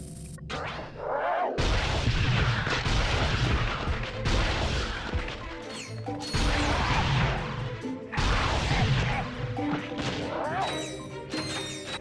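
Plasma coil weapon firing in the Ratchet & Clank 2 video game, a dense run of loud crashing, booming blasts that keeps going for most of the stretch, broken by a few short pauses, with game music underneath.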